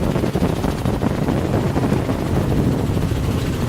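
A helicopter flying over bays with eelgrass and streams drones loudly and continuously from close by, a dense steady rotor and engine roar filling the whole stretch without pause.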